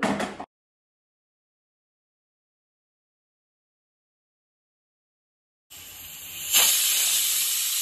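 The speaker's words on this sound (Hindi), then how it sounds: "अब प्रेशर कुकर को बंद करके इसमें सात से आठ सीटी मीडियम फ्लेम पे मैं लगाऊंगी" A short burst of noise, then silence, then a loud, steady hiss of escaping steam from a pressure cooker on medium flame that swells and keeps going.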